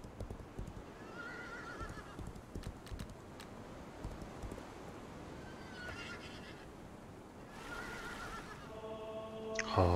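In the video game Legends of Aria, a horse gallops with steady clip-clop hoofbeats and whinnies several times. The sound sits over a constant low rumble, with keyboard typing in the background.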